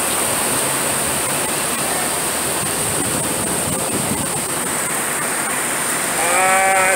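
Heavy rain shower pouring down steadily, a dense, loud and constant wash of noise throughout, with a brief higher tonal sound near the end.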